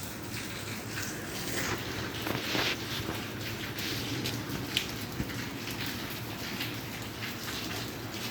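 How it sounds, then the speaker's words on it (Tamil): Heavy rain pours down in Coimbatore, a dense steady hiss of drops spattering on surfaces with occasional louder taps, constant and enveloping for the whole stretch with no talking. "செம்மையாக மழை பெய்யுது கோவையில்."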